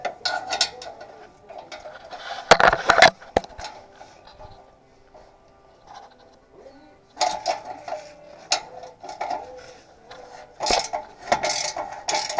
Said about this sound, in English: I'm using this double-sided Tectin 19mm ratchet, and it's easy